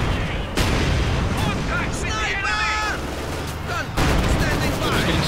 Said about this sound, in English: Another nice hit there from the SU-85.